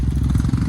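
A motorcycle engine thrums close and loud on a Himalayan trail, a rough pulsing low rumble over a brief moment of riding.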